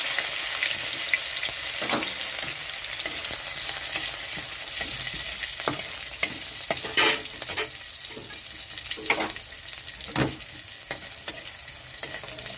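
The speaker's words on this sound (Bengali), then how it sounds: "তেলটা গরম হয়ে গেছে। এখানে আমি দিয়ে দিচ্ছি কাঁচা লঙ্কা কুচি।" Chopped green chillies fry in hot oil, a continuous close sizzle and crackle punctuated by sharp clinks and scrapes of a spatula stirring in the pan, with no voices.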